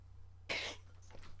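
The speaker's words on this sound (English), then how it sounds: "Hang on 1 second, I'm coughing." A single short, sharp cough bursts out close to the microphone against a quiet background, followed by a couple of fainter breathy catches.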